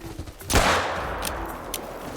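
A single sharp pistol shot rings out in theHunter: Call of the Wild on the Vurhonga Savanna, a loud broadband crack with a short tail, followed by faint ambient noise and a few soft distant ticks.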